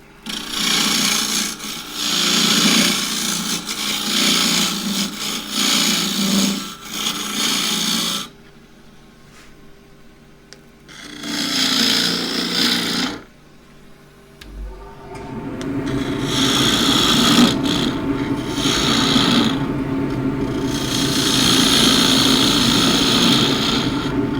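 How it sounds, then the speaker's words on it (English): Wood turning on a lathe: a 1/2 inch spindle gouge scrapes and hisses against spinning wood in bursts, with short pauses where the cutting stops and a low motor hum remains. "1/2 inch spindle gouge going."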